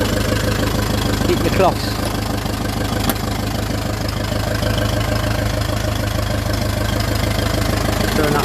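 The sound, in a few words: 1951 Ferguson TE20 tractor engine idling after cold start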